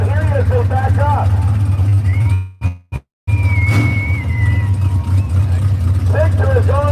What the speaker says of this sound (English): The big burnout on the right side for Jeff 6 in the 63 model Studebaker.